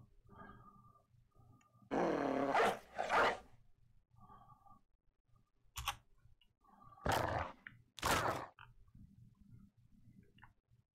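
A dog in the Battle Brothers video game growling and snarling in several harsh bursts, two close pairs plus a short one, separated by quieter game ambience.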